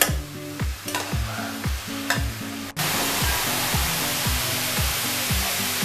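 Cauliflower cooks covered in a pan, giving a steady, loud sizzling hiss that swells into a denser, fuller roar partway through, with no voices.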